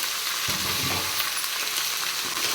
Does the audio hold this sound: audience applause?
no